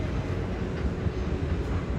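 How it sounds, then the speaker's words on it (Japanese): A Kintetsu four-car train passing at a station in Kyoto, a low steady rumble of wheels and motors, moderately distant and without voices. "うおー、近鉄電車"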